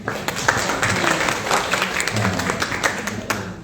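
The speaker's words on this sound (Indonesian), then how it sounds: "tepuk tangan untuk Bu Atik" An audience applauds a school teacher at a vocational high school curriculum event in Semarang, a dense, continuous wash of many hands clapping, fairly loud and close, with faint voices mixed underneath.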